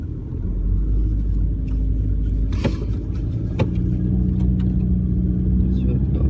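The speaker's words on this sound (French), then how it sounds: "Vas-y, accélère un peu et après, t'embrayes direct." A car with a manual gearbox accelerates as the driver shifts into second gear, a steady low engine rumble running throughout with brief knocks and clicks, while people talk over it.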